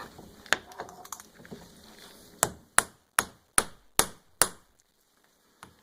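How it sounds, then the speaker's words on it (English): A hammer strikes a car CV joint six times in a steady rhythm, each blow a sharp metallic crack that rings briefly, preceded by lighter tapping and handling noises and followed by one faint final knock. "Take our hammer, want to line that back up."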